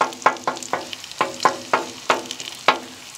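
Thick-cut bacon cooks on a well-seasoned camping griddle, with sharp, close scraping taps at a steady, uneven rhythm over a faint background sizzle.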